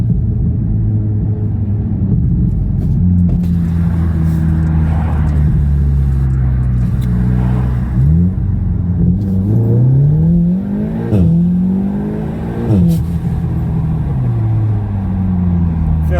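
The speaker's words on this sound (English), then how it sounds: "First gear, you get a fair amount of wheel spin as well" Audi S3 8V hatchback with a billet aluminium dogbone mount insert, pulling hard in first gear with some wheel spin; a steady loud engine drone rises in pitch through the run with shifting tones, and a brief voice is heard.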